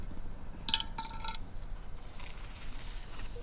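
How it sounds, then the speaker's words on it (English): A gentle stream of liquid poured softly in a close ASMR setting, with faint drips and light glassy splashes in the first half before settling into quiet trickling; no talking. "It's just a gentle pouring."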